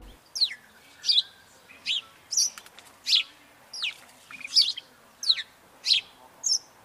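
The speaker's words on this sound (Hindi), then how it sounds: "चिंची चिड़िया खुराक की तलाश में इधर उधर उड़ रही थी।" Sparrow chirping in repeated short, bright bursts, about ten evenly spaced calls, close and clear over a quiet background with no voices.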